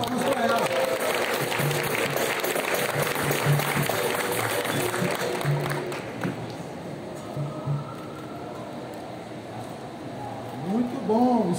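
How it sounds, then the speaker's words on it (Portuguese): Applause at a capoeira batizado and graduation ceremony, a burst of clapping for a newly named student that fades after about six seconds, followed by people talking over a quieter room. "É só de palmas para ela."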